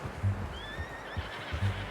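A horse in the video game Red Dead Redemption 2 lets out a few short neighs and snorts at close range, with a faint clip-clop between them and no talking.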